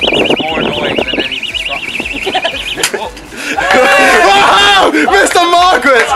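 An alarm rings with a warbling tone as it is smashed and thrown to the floor during a boisterous school event, loud amid crowd cheering and an excited commentator.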